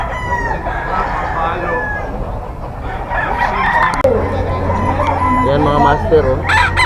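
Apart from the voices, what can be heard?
rooster crowing, a bull stag gamecock for sale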